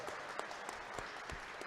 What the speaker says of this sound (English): another round of applause for Plum Crazy here in the semifinals